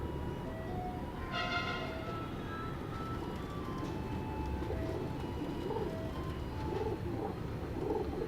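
Pigeons, including a black-silver racing pigeon, cooing softly in a loft over a constant low rumbling background, with a brief tonal whistle-like sound early on.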